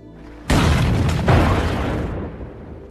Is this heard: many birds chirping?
no